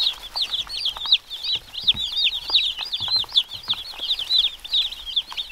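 Two-day-old chicks running around and exploring: a dense chorus of high, rapid peeps from several birds at once, close and continuous with no talking.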